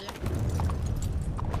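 Rhythmic video game hoof clops of a horse walking, steady and fairly close, with faint background noise.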